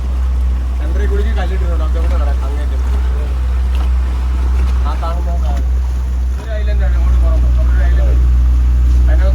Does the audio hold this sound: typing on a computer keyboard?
no